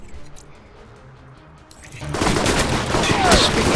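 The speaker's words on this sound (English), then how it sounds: "these guys are going to come in and shoot at everybody anyway." Gunfire erupts in the video game Alpha Protocol, a loud, sustained burst of rapid shots that starts suddenly after a quieter stretch of faint background ambience.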